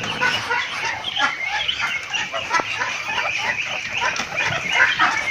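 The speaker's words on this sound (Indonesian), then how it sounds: "Nah, di sini adalah jenis entok rambon, teman-teman." Rambon jali Muscovy ducks (entok) on a farm, a flock giving continuous overlapping hisses, breathy calls and murmurs, close and fairly loud throughout.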